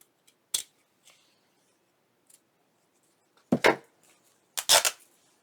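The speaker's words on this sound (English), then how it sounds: "I'm going to first cut this off right across here" Scissors snip through paper and flower material in a few sharp, close cuts, one single snip and then two quick double snips separated by silence.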